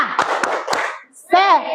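A class doing a rhythmic spirit clap, with three quick, sharp hand claps in a row, followed after a brief pause by a voice calling out.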